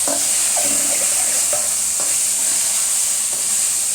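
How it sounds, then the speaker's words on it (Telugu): Sauce for beetroot gobi manchurian frying in a pan, a loud, dense hiss of sizzling with a few soft stirring scrapes beneath it, continuous throughout, no voices. "కొద్దిగా మాడకుండా తిప్పుకుంటా చేసుకోవాలి."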